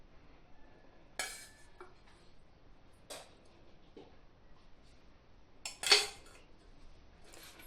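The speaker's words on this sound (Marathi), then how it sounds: "त्यामध्ये आपण आता तेल घालणार आहोत।" A metal spoon clinks a few times against a hot kadhai as oil is added for tempering a traditional sour chuka leaf vegetable dish, sharp isolated taps spaced apart with a louder pair near the end, no talking.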